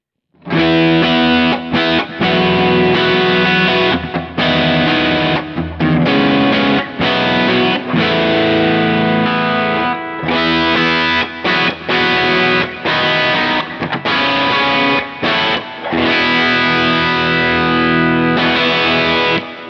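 Fender electric guitar with its bright switch engaged, played through a Kemper amp profile, producing loud driven chords and riffs with distortion and effects, continuous phrases broken by brief stops, no talking.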